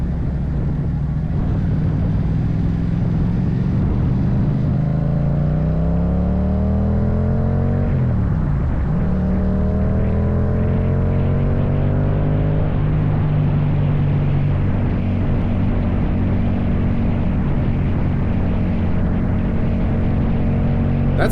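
A 2022 Yamaha MT-07 motorcycle with an Akrapovic exhaust pulls onto a highway, engine note climbing through the gears with a shift partway, then settling into a loud, steady cruising drone under wind rush.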